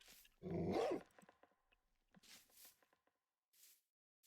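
A tamed wolf dog in the Minecraft video game gives one loud close bark, followed by fainter short rustling and soft sounds spread over the next few seconds, no talk.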